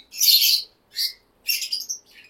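Lovebirds at a breeding farm in Khulna give bright, high-pitched chirps in four quick bursts, fairly close and clear, with short silent gaps between them.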